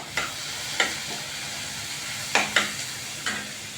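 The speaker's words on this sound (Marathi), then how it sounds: "तांबूस कलर येईपर्यंत त्याला भाजायचं कांद्याला." Sliced onions fry in a pan for egg ghotala, with a soft sizzle under repeated scraping strokes of a spatula stirring them at close range.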